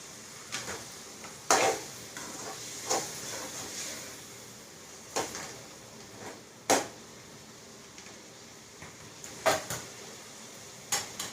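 Curry being stirred in a pan in a home kitchen: scattered clinks and scrapes of a spoon against the metal, close by and fairly loud, at irregular intervals over a steady background hiss.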